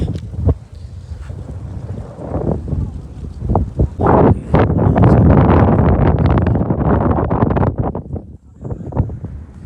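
Strong gusty wind blows outdoors near a dam in Satara, buffeting the microphone in heavy roaring bursts that swell and drop, with no speech.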